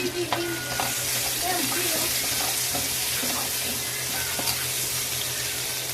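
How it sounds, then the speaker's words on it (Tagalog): Garlic and onion sauté in a hot pan with oil, giving a steady, close sizzle and fry alongside a low constant hum, with occasional scrapes and clinks of a stirring utensil; no talking. "Ligisa muna natin yan"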